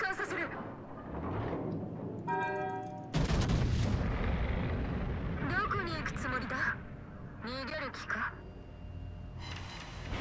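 Secondary guns fire from the warship Giuseppe Verdi in World of Warships, a series of booming, cracking shots with rumbling low tails and whooshing shells, heard among battle noise while someone talks excitedly over them.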